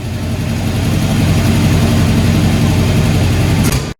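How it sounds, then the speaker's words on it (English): A carbureted 1981 Oldsmobile Delta 88 engine idles steadily and loudly up close, a dense low rumble with an even pulse that cuts off abruptly at the end. "Sure idling nice now."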